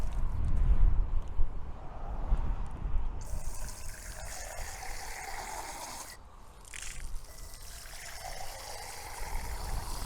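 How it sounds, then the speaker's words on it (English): Water runs through an inline DI car wash filter being purged, heard as a steady rushing hiss and trickle throughout. A louder splashing patch near the start settles into a continuous flow with no talking. "Run through the filter for a second, just kind of purge everything out of the filter"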